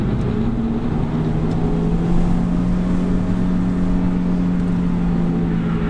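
A car engine on a racetrack at the AutoInterests Carfest 2017, a loud, steady droning growl with a sustained engine tone as the car accelerates, heard from inside without talking.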